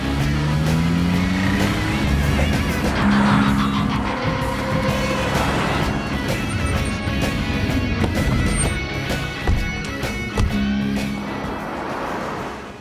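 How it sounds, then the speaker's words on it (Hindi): Getaway car started in a hurry and pulling away fast after a bank robbery, engine noise and revving rising under dramatic music, with loud continuous vehicle rumble throughout. "गाड़ी स्टार्ट कीजिए, जल्दी गाड़ी स्टार्ट कीजिए।"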